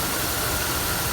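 A 2006 Dodge Ram 2500 with power steering noise and hard steering idles close by, a steady, loud broadband engine rumble and hiss with no talking.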